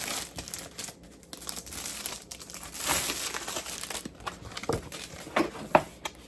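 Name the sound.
opening packaging of Cricut smart paper sticker cardstock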